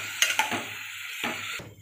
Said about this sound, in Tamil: சேர்த்துட்டு நல்லா கிளறி விடுங்க